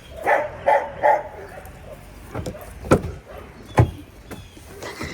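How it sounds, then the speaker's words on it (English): Several dogs bark from a distance, a quick run of yaps followed by scattered barks echoing from different directions. "This dog is having a barking war with 20 dogs over here."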